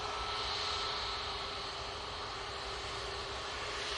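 Ryanair jet departing Manchester Airport for Copenhagen, engines giving a steady, moderately loud roar with a thin constant tone and hiss, holding even from start to finish without any speech.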